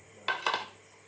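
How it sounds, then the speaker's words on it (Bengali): A knife blade clicks twice against a plate or board while slitting fresh green chilies in a home kitchen, two short sharp taps close by with no talking. "এবারে কাঁচা ঝালগুলো চিড়ে নেব।"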